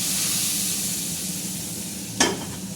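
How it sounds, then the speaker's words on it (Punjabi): Fried tadka tempering hits a pot of halwai-style sambar with a steady loud sizzle, then a sharp burst of crackling hiss near the end as the hot tempering is poured in, with no talk. "ਹੁਣ ਆਪਾਂ ਇਹ ਜਿਹੜਾ ਤੜਕਾ ਭੁੱਜਿਆ ਹੋਇਆ ਹੈ ਹੁਣ ਆਪਾਂ ਇਹਦੇ ਵਿੱਚ ਪਾ ਦਾਂਗੇ"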